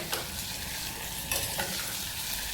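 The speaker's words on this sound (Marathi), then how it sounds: "आता हे सगळं मिश्रण व्यवस्थित भाजून घेऊया आपण ह्या तुपात" Spice mixture for masala bhat is stirred and roasted in hot ghee: a continuous soft sizzle with scraping spoon strokes against the pan, close and steady with a few sharper stirring clicks.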